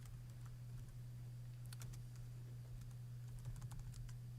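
Light, steady typing on a computer keyboard in a conference room during a JavaScript deobfuscation talk, with soft irregular clicks over a constant low electrical hum and no speech.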